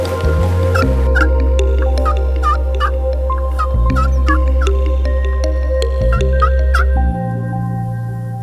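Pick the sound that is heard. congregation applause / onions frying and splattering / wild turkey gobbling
wild turkey gobbling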